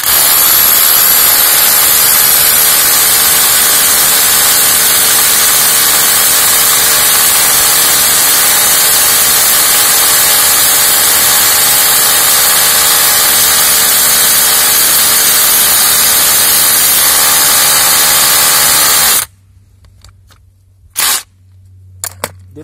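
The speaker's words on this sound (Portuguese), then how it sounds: "Vou deixar os dois aqui de lado e iniciar a minha perfuração." DeWalt DCH133 20V cordless rotary hammer drilling into rock, a loud, continuous hammering drone that runs steadily for about nineteen seconds and then stops abruptly, leaving a few short bursts.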